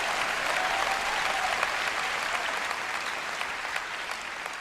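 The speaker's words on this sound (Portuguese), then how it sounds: "E deem uma salva de palmas ao Senhor." Congregation in church giving a round of applause to the Lord, a sustained even roar of many hands clapping, moderately distant and alone without talk.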